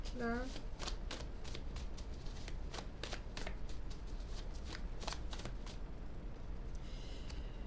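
Oracle cards being shuffled by hand, a close, steady riffling patter of rapid papery flicks lasting several seconds beneath a soft background hum, with a brief vocal sound at the start.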